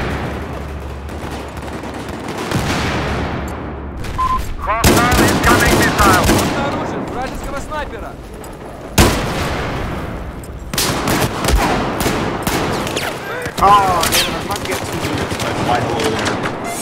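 Rapid SPS gunfire in the video game Battlefield 4 comes in several loud bursts, with brief pauses between them and game effects and a voice in the background.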